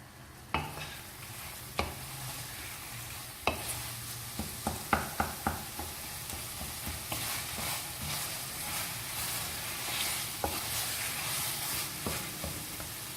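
Mashed fire-roasted eggplant being stirred and roasted in masala for baingan bharta, a soft continuous sizzle broken by repeated sharp spatula taps and scrapes against the pan, some in quick clusters, with no one talking.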